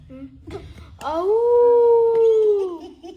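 A person imitates a wolf howl with a long, rising and falling wail lasting about two seconds, preceded by a brief vocal sound.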